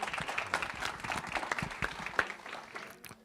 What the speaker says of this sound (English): really, really deserves a big applause